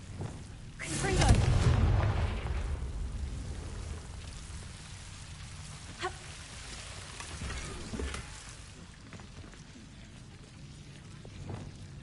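Confringo fire blasting spell cast in the video game Hogwarts Legacy, a deep rumbling blast early on followed by a long fading crackle, then fainter impacts and magical hits over a steady rain-like background ambience.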